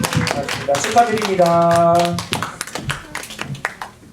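Applause from a church youth group congregation at a birthday celebration during a Sunday service, brief clapping mixed with a sustained tone and voices, with a person speaking briefly.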